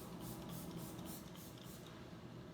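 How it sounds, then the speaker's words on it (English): Repeated spritzes of Let It Set makeup setting spray misted onto the face, a close, soft hiss that pulses several times in quick succession before fading into a steady quiet hiss, with no talking. "I am going to set this in place with my Let It Set from Eyebrow. I'm just gonna give myself a nice good spritz."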